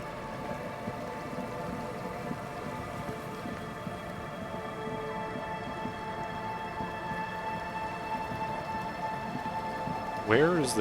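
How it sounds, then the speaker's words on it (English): Steady rain and storm ambience from the Disco Elysium video game, a continuous wash of rainfall with low rumbling and tonal game music underneath, ending in a brief louder burst. "Uh-oh, lightning storm begins."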